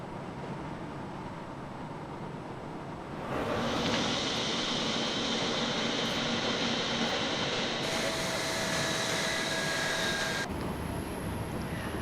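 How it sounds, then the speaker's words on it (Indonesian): A presidential aircraft arrives escorted by six JF-17 Thunder fighter jets of the Pakistan Air Force, a broad engine roar that swells sharply after a few seconds and holds loud and steady, with whining tones shifting over it. "kedatangan Presiden Prabowo dan delegasi menggunakan pesawat kepresidenan disambut istimewa dengan dikawal 6 jet tempur JF-17 Thunder milik Angkatan Udara Pakistan"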